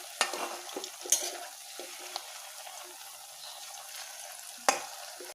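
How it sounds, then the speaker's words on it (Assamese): Raw banana pakoras fry gently in oil on low heat, a soft, quiet sizzle broken by a few sharp clinks of a utensil against the pan. No one speaks. "আমি এনেকৈ কম জুইত ভাজি ভাজি ৰঙা হোৱালৈকে ভাজিব লাগিব"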